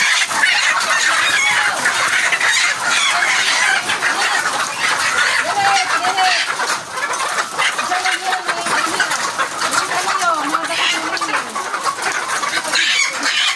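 Many caged laying hens cluck and squawk noisily together in a poultry house, a dense, continuous chorus of overlapping calls close by, with no speech.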